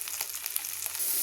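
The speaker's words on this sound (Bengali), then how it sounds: "এখানে বেগুনটা ভাজা ভাজা হয়ে গেছে" Sliced eggplant seasoned only with turmeric and salt fries in hot oil with black cumin, giving a steady close crackling sizzle with small pops throughout, no voices.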